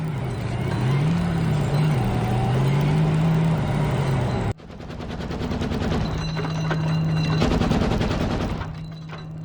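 Russian BMPT Terminator tank support vehicle in combat, an engine droning with wavering pitch, then a sharp cut to rapid, evenly spaced cannon bursts with a steady tonal hum behind them, loud and close.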